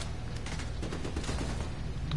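Gunfire in the shooter video game The Division 2 comes as a dense, rapid stream of loud shots with layered bursts.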